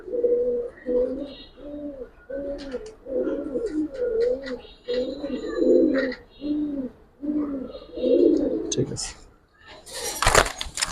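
Giribaz pigeons cooing close by in a steady series of low, rolling coos, with a brief burst of rustling or handling noise at the end; someone talks over part of it.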